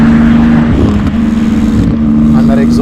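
Porsche GT2 RS tuned past 1000 hp, its exhaust giving a steady loud droning note that dips briefly and rises again, close by, with a voice talking over it.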